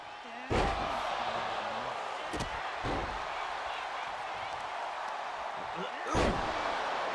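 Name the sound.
wrestler slammed down on the mat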